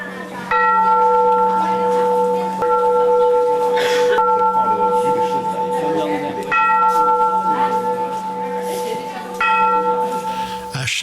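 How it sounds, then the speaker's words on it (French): A monk strikes a bell at the Giant Wild Goose Pagoda in Xi'an, giving several struck tones with long ringing sustains that overlap, close and fairly loud, with faint crowd noise behind. "À chaque offrande, le moine tape sur la cloche."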